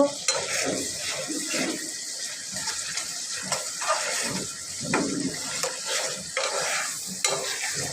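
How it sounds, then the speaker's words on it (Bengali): Spoon stirring almond and poppy seed paste into a cooking masala for murog polao, a steady scraping and squelching with soft sizzling throughout, close and moderately loud, with no talking. "এখন এগুলোকে ভালো করে আবার মিক্স করে নিব"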